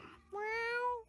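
One clear, close cat meow from the video game Mewgenics: a smooth, tonal cry lasting under a second, alone after a brief soft lead-in.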